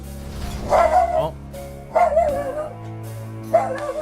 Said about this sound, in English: Scary dog jump scare.